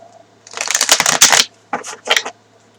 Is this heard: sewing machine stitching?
no